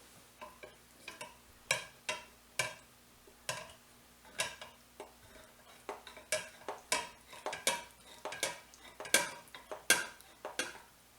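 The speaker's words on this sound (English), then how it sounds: "Stir it." A spoon stirs banana pudding mixture with vanilla in a pot for Southern-style banana pudding, producing a quiet, rhythmic series of close metallic scrapes and clinks against the pot, about two per second, with no voices.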